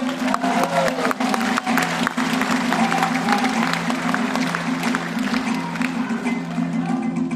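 An audience claps steadily through the whole stretch, dense and sustained applause with a musical tone running underneath.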